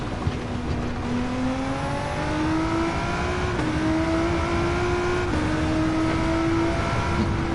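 Race cars starting a race in Gran Turismo 7, engines droning loudly with rising, overlapping revs as the pack accelerates through the gears, steady and close with no talking.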